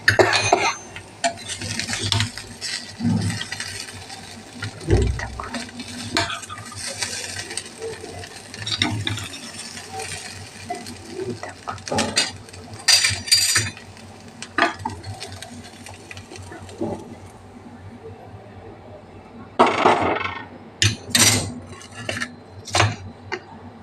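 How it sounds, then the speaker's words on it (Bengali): Jeera aloo scooped from a pan with the flame off, metal spoon clinking and scraping against the pan in quick irregular bursts, with brief pauses between the louder clatters. "এই দেখো গ্যাস বন্ধ করে দিলাম, এবারে নামাচ্ছি আমার জিরা আলু।"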